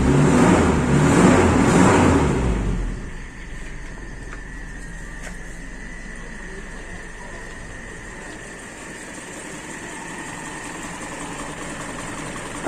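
A Toyota Kijang engine idles steadily after a louder burst of washing noise fades, the low, even hum continuing at moderate level for several seconds with faint tonal whine above.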